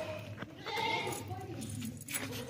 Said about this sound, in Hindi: बहुत ताकतवर बकरा, काबू नहीं आ रहा भाई